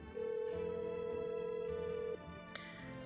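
A telephone tone rings in the video game No, I'm Not A Human: a single sustained electronic beep holds for about two seconds, then a softer tone follows, clear and close with no talking.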